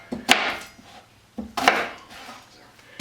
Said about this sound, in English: So we're just going to cut this into sections, throw it right in there.